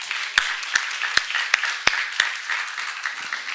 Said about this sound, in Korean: 그렇게 되기를 원하시면 박수 한번 쳐요